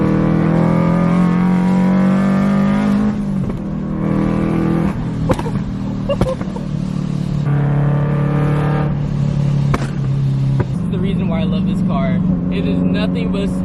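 A Scion FR-S revs hard and accelerates through several gears, its exhaust pitch climbing and dropping between shifts, with sharp pops and crackles heard up close. Voices are heard over the engine.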